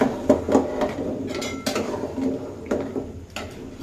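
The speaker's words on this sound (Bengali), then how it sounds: "ডিমটা একটু লাড়া দিয়ে দিতে হবে।" Egg curry being stirred in a cooking pan gives sharp metallic clinks and scrapes of a utensil against the pan, irregular taps close by over a faint sizzling background.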